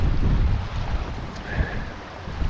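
Cedar Creek flowing near an old wooden covered bridge in Wisconsin, heard as a steady, full rush of water, close and fairly loud, mixed with some wind noise and no talking.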